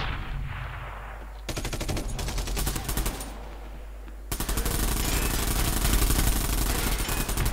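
Automatic gunfire in the free-to-play shooter Bullet Run during team deathmatch: loud, dense rapid-fire bursts with short pauses, ending in a long sustained barrage.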